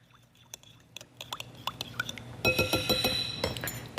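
A spoon clinks and scrapes against a glass bowl while chili powder and olive oil are stirred together, with light irregular taps that grow busier and louder in the second half.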